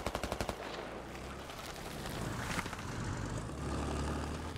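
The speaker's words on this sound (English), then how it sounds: "We're taking fire." Incoming gunfire in the Squad military shooter game, a rapid burst of loud, close machine-gun shots at the start giving way to a continuous rumbling roar of battle and distant fire.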